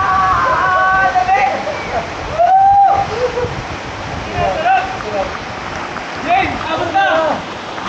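River water rushes and splashes loudly and continuously while people's voices come through over it.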